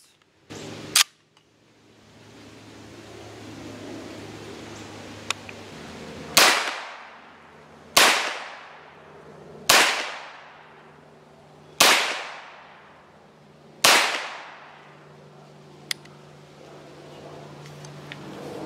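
Gunshots from a CZ Scorpion EVO-K SBR fired at a 25-yard range with the standard CZ magazine: six or seven loud, sharp single shots at a slow, uneven pace, each trailing off with a short echo, over a quiet background.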